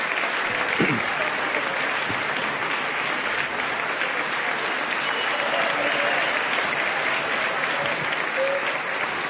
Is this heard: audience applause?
yes